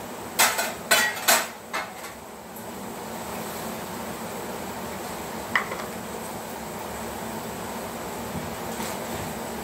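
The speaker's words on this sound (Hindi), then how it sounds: "ये बर्तन है जो मैं अभी लगा रही हूँ, सब वॉश किए हुए हैं।" A few sharp metallic clinks as washed metal dishes are set down and stacked in a kitchen, then a single later clank over a steady background hiss, like rain.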